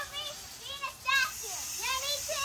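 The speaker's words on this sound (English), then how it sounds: "it can't be summer without kids playing in the sprinkler" Children playing in a garden sprinkler on a summer day: high, excited young voices call and shriek over a steady background hiss.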